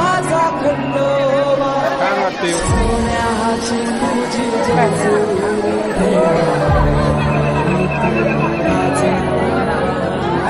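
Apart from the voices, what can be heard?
crowd at Jejuri main temple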